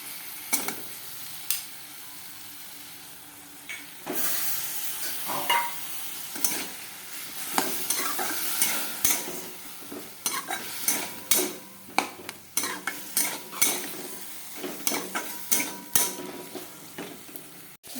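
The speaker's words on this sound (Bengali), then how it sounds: "অল্প মাংস অল্প মশলা, হলুদ লবণ দিয়ে দিলাম, ভাজা ভাজা করে নিই" Meat seasoned with turmeric and salt sizzles while being stir-fried in a pan. A spoon scrapes and clanks against the metal in sharp, irregular knocks, which grow more frequent as the stirring goes on.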